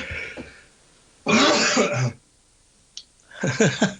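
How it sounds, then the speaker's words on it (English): A sharp, breathy sneeze bursts out, then after a pause comes a rougher throat-clearing, coughy burst. Both are close and loud against near silence. "Oh, I'm going to sneeze."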